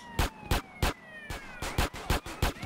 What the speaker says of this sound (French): On enlève la sirène parce que c'est chiant.